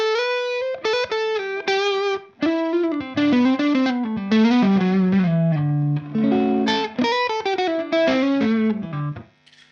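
An electric guitar played through an overdrive pedal with its gain turned down gives a mildly driven, warm tone on a quick melodic single-note run with short gaps between phrases. It is loud and close, with no voices.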